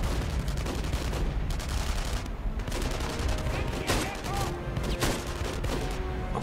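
Rapid, sharp sniper rifle gunshots crackle constantly in a busy battle in the video game Enemy Front, with booming impacts and no clear pause between shots.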